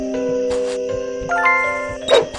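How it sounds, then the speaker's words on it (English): A two-tone electronic chime rings out in Scary Teacher 3D, a steady sustained tone joined by a brighter second note partway through, with faint game noises behind it. "There goes that stupid bell again."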